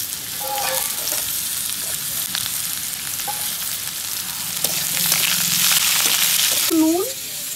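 Potatoes frying in hot oil tempered with mustard seeds give a loud, dense, continuous sizzle that swells toward the end, with a few faint scrapes and short background voice-like tones.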